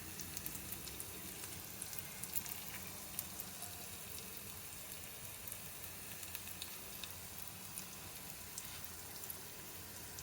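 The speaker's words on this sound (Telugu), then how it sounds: "జీలకర్ర, ధనియాలు వేసి ముందు లైట్గా వేయించుకోవాలండి" Cumin and coriander seeds fry lightly in a pan for a tomato chutney, a faint, even sizzle with tiny scattered crackles that holds steady the whole time, with no talking.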